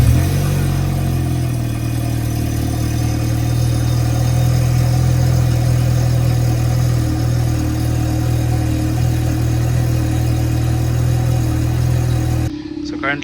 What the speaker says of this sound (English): we're gonna go get a cold start